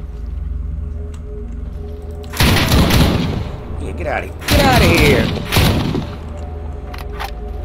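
Bursts of gunfire and impacts in the shooter game Stalker Anomaly, two loud dense volleys separated by quieter stretches, with a steady low game ambience throughout.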